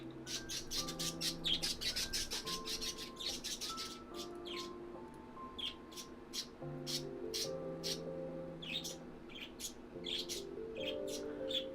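Two budgies chirp and squawk continuously, with sharp repeated tweets and chattering calls, some warbling tones mixed in, moderately loud indoors.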